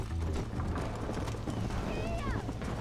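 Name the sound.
horse galloping in Red Dead Redemption video game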